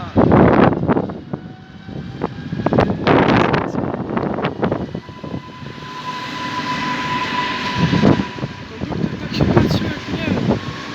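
An Impuls electric multiple unit pulls away from Warszawa Falenica station, its motor humming and rising steadily in pitch at close range, while people talk loudly nearby over the noise.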